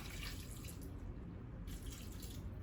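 Coconut water pours steadily into a blender jar while green beans and baked, frozen sweet potato wait for a blended tube-feeding meal; a continuous liquid splash and trickle runs for a few seconds without any talking.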